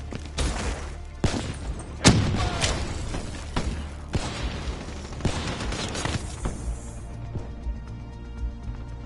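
Gunfire in a video game: a run of sharp shots and thuds at irregular intervals, some loud and close, over a constant low rumble, then fading to quieter scattered hits.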